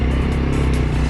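Engine of a Polaris RZR 200 while being driven, a brief, loud, steady motor hum heard up close with no voices.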